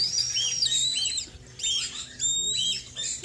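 A young bird chirps repeatedly in shrill, rapid peeps, close and fairly loud, with brief gaps between the bursts.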